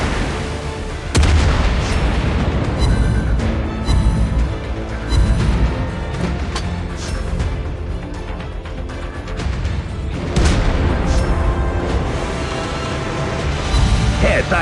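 Destroyer guns fire repeatedly in World of Warships Blitz as the Tier 8 Amatsukaze, with booming blasts over a dense, loud battle mix of game music and effects, and a voice speaking through it.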